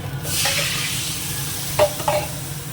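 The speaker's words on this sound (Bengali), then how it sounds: "এই যে এতটুকু লঙ্কা দেবো মধ্যে জলটা দিয়ে দিই" Water poured into chilli masala already sizzling in a pan sets off a loud, spreading hiss, followed by a couple of short clinks and stirring scrapes near the end.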